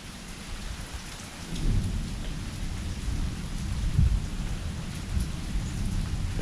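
Rain falls steadily around a home on a stormy day, a constant hiss of drops with deeper rumbling swells that may be distant thunder, heard alone without talk.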